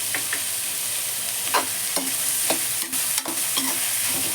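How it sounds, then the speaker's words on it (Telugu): Chopped onions frying with half a spoon of salt in a pan, a steady close sizzle with occasional scraping stirs and soft clinks, no voices. "ఇవి బాగా ఉల్లిపాయలు ఫ్రై కావాలండి, కాస్త సమయం పడుతుంది."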